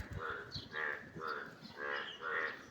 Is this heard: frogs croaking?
yes